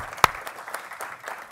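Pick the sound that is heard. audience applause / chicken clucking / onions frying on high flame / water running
audience applause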